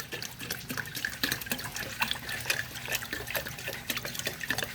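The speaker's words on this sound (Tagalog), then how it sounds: "mag-init tayo ng 2 litro lang na tubig" Water runs from a tap into a stainless steel electric kettle, a steady splashing fill with light drips, close and moderately quiet, with no voices.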